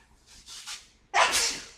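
A single close human sneeze, a soft intake of breath followed by a sharp, loud burst that trails off, heard on its own during a live hangout.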